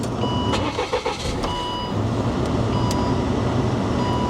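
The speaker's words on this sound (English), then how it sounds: "Put the key in, fire it up." A car engine cranks with a few rapid stuttering pulses, then catches and settles into a steady close idle hum.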